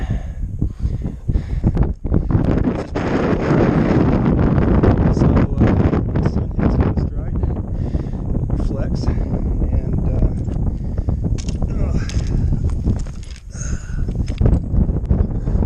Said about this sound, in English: Not sure if you can hear me because of the wind.